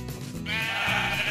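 A sheep in the video game Minecraft gives a single drawn-out bleat, loud and close, following brief game sounds.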